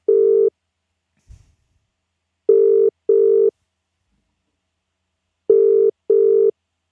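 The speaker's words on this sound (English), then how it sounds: "We've got ringtones now, which is always good." A phone call's ringback tone sounds in paired electronic beeps, clean and steady, with silent gaps between each pair.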